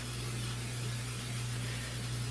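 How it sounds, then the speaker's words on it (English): A can of non-stick cooking spray sprays onto a cast iron skillet, a steady, continuous hiss running unbroken for a couple of seconds over a low constant hum, with no voices. "take some non-stick spray or just some regular oil"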